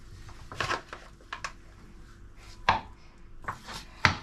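A knife chopping slices of bread to thin them for breakfast treats, giving a series of short, sharp cutting strokes at an uneven rhythm, close and fairly quiet, with no voices.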